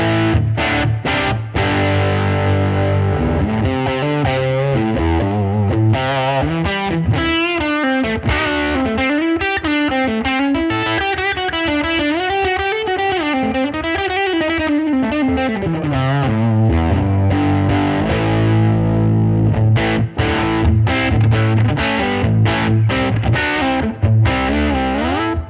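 Fender-style electric guitar on the bridge pickup, driven through a fully cranked amp, plays loud, continuous distorted phrases with sustained chords and lead lines, with no voices.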